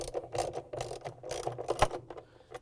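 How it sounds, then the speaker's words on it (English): A ratchet fitted with a 1/2-inch socket tightens bolts on a Frigidaire/Electrolux washer tub, giving bursts of close, quiet clicking pawl strokes with brief pauses between them. "We're going to use our 1/2-inch socket with the ratchet to tighten them down."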